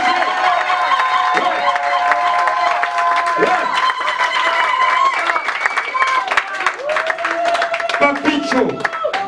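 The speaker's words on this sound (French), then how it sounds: "Et on vous applaudit très très très fort" An audience claps and cheers at the official launch of the Congo Fort association held in the presence of Tshisekedi, with a loud, sustained wash of applause and crowd noise mixed with voices throughout.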